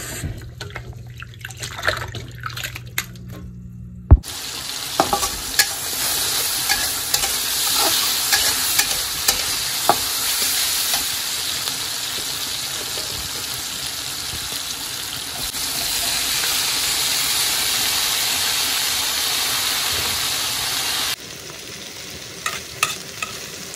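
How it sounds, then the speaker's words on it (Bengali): Beef being sautéed and stirred in a pan for a Bengali-style curry, with a steady loud sizzle and repeated scraping stirs running through most of the stretch after a quieter start. "এই যে মাংস কষানো"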